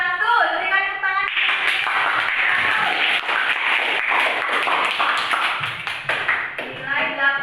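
Students in a classroom break into a dense burst of applause praising good test scores, many hands clapping loudly together for several seconds after a teacher's brief talk, then tapering off as speech returns.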